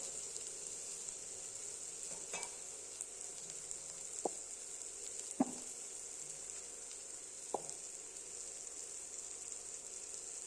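Beans and carrots, cut, washed and drained, frying in a pan for a Tamil-style kootu: a faint, steady sizzle with a few soft clicks of a spoon or the vegetables against the pan.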